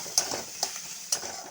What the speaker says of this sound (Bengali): দিয়ে মশলাটা আমি ভালোভাবে কষে নেব